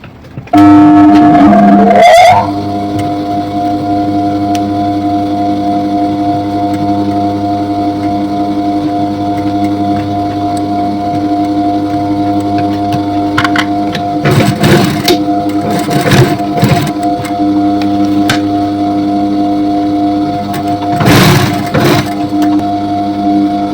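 A sewing machine steadily running as it stitches piping onto the neckline of a wide-leg jumpsuit, a continuous close mechanical hum with a few brief clicks and rustles.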